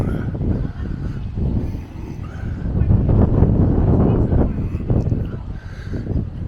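Gusty wind buffets the microphone in a Blackpool churchyard near the town centre, a steady low rumble that swells louder midway through and stays loud to the end.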